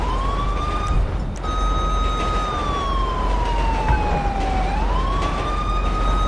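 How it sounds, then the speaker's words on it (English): A police car siren in the video game GTA 5 wails continuously, its pitch sweeping slowly up and down over steady road and engine rumble, loud and close with no talking. "Let me turn my siren off."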